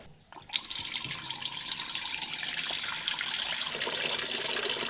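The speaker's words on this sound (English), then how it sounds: "Now we're going to tip that out because that's just the water and stuff" Water tipped out of a homemade wax extractor in a shed, a steady close pour and splash that starts abruptly and runs on continuously.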